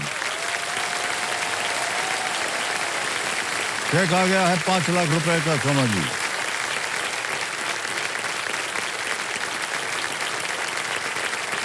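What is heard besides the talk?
studio audience applause on KBC game show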